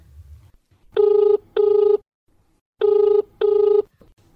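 A telephone rings for a farmers' radio phone-in programme, two double rings with a short pause between them, loud and clear against near silence.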